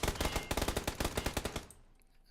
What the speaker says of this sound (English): Shots being fired, though.